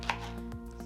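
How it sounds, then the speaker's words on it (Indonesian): A knife chops chili peppers on a cutting board for a spicy salted squid sambal, making a quick run of four light, crisp taps, close and moderately quiet with no talking. "Jadi aku potong-potong dulu."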